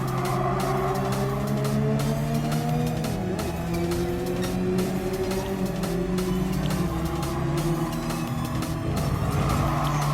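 Race cars in Gran Turismo Sport roar past and around, with layered engine drones rising and falling in pitch and a steady loud stream of motor noise with sharp tire and shifting ticks throughout.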